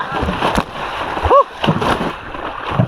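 A hooked blue marlin thrashes at the surface, throwing up several sharp, close splashes and sloshes while someone talks excitedly over the commotion.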